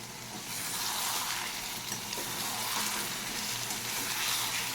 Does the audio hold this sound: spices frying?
yes